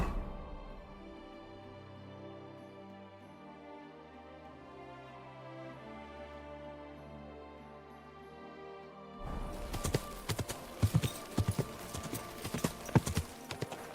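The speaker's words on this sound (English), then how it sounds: "Your horse nearly trampled me." After a stretch of soft music, horse hooves clip-clop in a quick, irregular rhythm, close and fairly loud, in the video game Kingdom Come: Deliverance 2.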